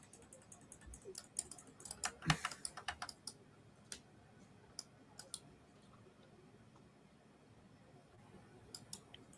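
Someone types on a computer keyboard in the background of a football discussion call, producing fast, irregular clicks that bunch together early and then thin out into scattered, faint taps.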